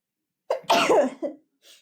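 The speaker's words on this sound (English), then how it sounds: "I'm about to sneeze." A single close, loud sneeze with a sharp inhale and burst, followed by a short breathy exhale.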